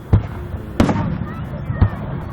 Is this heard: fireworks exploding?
yes